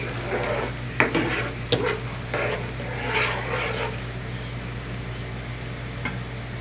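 Chicken sautés in a pan for a Hyderabadi curry, a steady close sizzle over a low hum, with a few sharp knocks and scrapes as a utensil stirs it, no voices.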